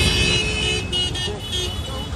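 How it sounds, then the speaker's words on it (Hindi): Busy Mumbai road in a traffic jam, with a steady close wash of idling car and motorbike engines, scattered horn toots and road noise throughout, faint voices mixed in. "मैं यार, इतना ज़्यादा ट्रैफिक जाम है।"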